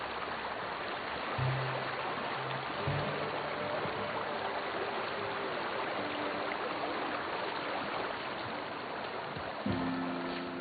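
A river flows steadily in a video game world, a soft continuous rush of water with a faint lapping texture and no voices.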